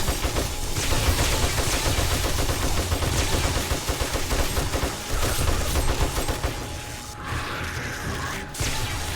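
Dense, continuous gunfire-like bursts and crashing impacts fill a chaotic video game battle, loud and close throughout, with a demo blast explosion somewhere within the din and no talking.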